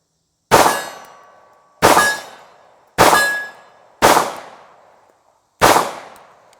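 A Ruger 1911 pistol fires five loud, sharp shots at a target, spaced roughly a second apart, each followed by a short ringing decay.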